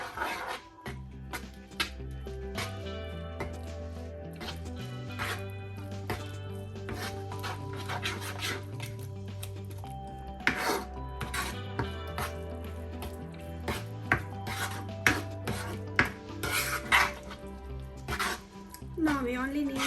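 Kimchi seasoning with soy sauce is stirred in a bowl, giving repeated wet squishing and scraping strokes under steady background music.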